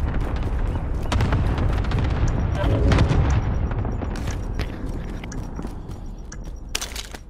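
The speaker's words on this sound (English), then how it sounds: "Allied cluster strike inbound." A cluster strike lands in a shooter game, a rumbling spread of heavy booms and rolling blasts swelling around the middle and fading, with sharp cracks of gunfire near the end and voices talking over it.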